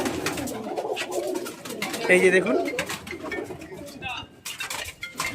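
Patta pigeons, males and females kept together, coo softly in the background with a brief clearer call near the middle, while someone speaks over them and light clinking sounds come and go.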